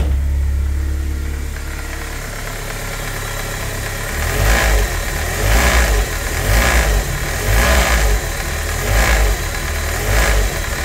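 A BMW M42 engine with a worn timing chain tensioner runs at low revs just above 1000 rpm, giving a steady idle hum with a rhythmic rattle and tapping that pulses roughly once a second, recorded close.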